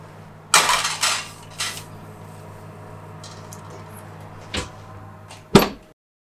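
A baking tray of gingerbread cookies slides into a home oven set to fan-forced mode, with a cluster of metallic clanks and scrapes at the start, then two sharp, close knocks near the end as the rack or door settles.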